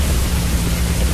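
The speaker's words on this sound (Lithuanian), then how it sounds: "Jėzus, kaip lyja." Heavy rain pours down in a dense, unbroken hiss, loud and close, with no talking.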